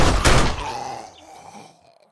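A single gunshot in the zombie survival game 7 Days To Die, one loud close blast with a decaying echo tail fading over about two seconds, no talk.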